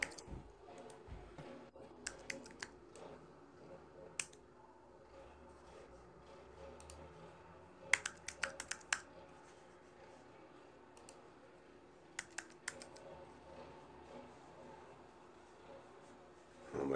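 Sparse, isolated clicks from a computer keyboard whose N key works only intermittently and is being struck hard, with a few sharper taps standing out over a low room hum.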